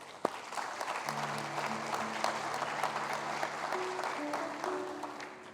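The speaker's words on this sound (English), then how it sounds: "let's give her a round of applause." An audience claps steadily for several seconds at a school keynote event, a full round of applause with a low tonal hum running underneath.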